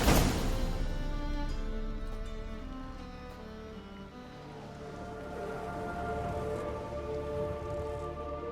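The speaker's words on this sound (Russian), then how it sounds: "Дождь, люблю дождь." Steady rainfall in The Witcher 3 pours down as an even wash, with tonal game music layered over the patter throughout.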